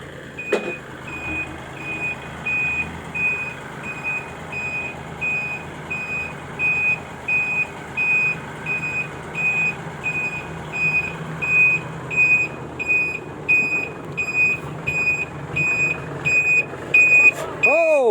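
A six-wheel truck backs up while its reversing alarm sounds a steady series of loud, evenly spaced beeps over a low idling engine rumble, with someone talking intermittently over it.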